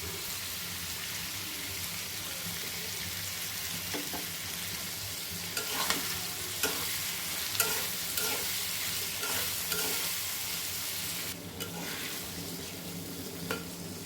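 Ground spice paste hits a hot frying pan holding potatoes, giving a dense, steady sizzle with repeated scraping stirs and clinks of a utensil against the pan, close and continuous.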